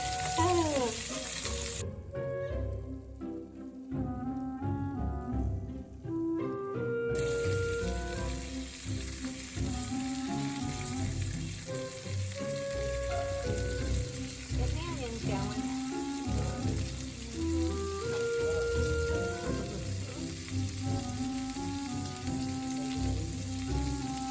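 Onion rings sizzle steadily in a frying pan for a home-cooked Italian nachos dinner, a constant crackling hiss running beneath music throughout.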